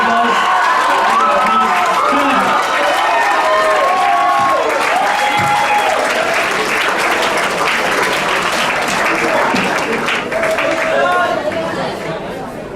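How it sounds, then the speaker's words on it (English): Audience applause at a COMUN 2019 closing ceremony: sustained loud clapping mixed with crowd chatter and a few cheers, fading slightly at the end. "Can you please give them a round of applause?"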